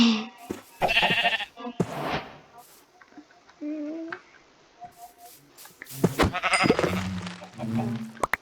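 Several sheep in Minecraft bleat at close range, high and wavering, interspersed with a person talking, with a few soft clicks between calls.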